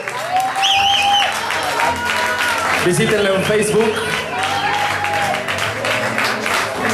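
An audience at a live show with a band claps and cheers steadily for an arriving guest, the applause continuous under a voice talking over it.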